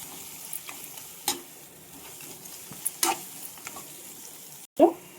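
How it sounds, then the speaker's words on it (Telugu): Turmeric and chili powder being stirred into Andhra-style gongura chicken curry in a pan, a soft low sizzle with a few scattered scrapes and clinks of a spoon, one louder clatter near the end. "కొద్దిగా పసుపు వేసుకుందాం కొద్దిగా కారం వేసుకుందాం ఒకసారి కలుపుకుందాం"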